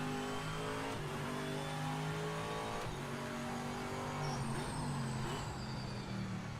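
Racing car in the Project Motor Racing video game, engine running loud and close with a harmonic-rich tone, throttle blipped as revs dip and rise during downshifts, with no speech.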